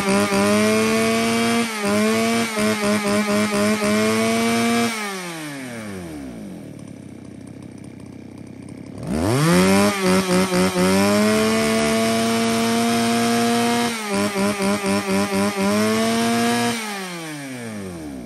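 A Shindaiwa 352 chainsaw runs loud and close, revving high in repeated bursts, dropping to a lower idle midway, then revving up again in steady pulses with no talk.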